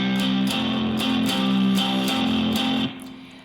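A blues rhythm guitar plays the shuffle pattern in C, steady chugging strums in an even loop that ends on a sustained ring, close and loud with no talking.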